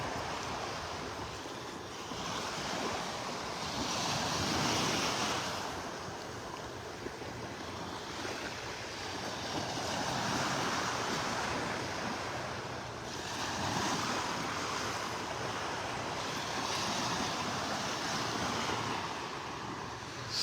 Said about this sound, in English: Might be a few more little waves than yesterday.